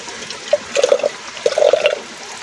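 Water in a jungle stream in rural Nepal gurgles and splashes close by, with bursts of bubbling over a steady rushing wash and no voices.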